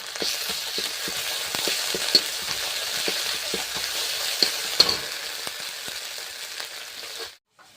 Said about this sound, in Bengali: তো প্রথমে তেলে আমি এই পেঁয়াজ বাটাটা দিয়ে দেবো। এবার আদা রসুন বাটাটা দিয়ে দেবো।